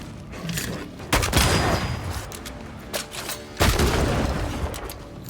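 An enemy opens fire in Banishers: Ghosts of New Eden, heard as two heavy booming shots about two seconds apart, each with a crackling, rumbling tail over dark ambient game noise.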